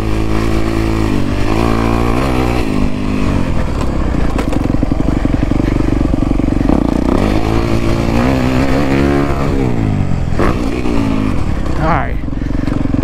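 A 2023 Honda CRF 250R dirt bike ridden around a motocross track at Washer Valley, its engine rising and falling through loud revs and throttle bursts, close and continuous, with a voice speaking over it.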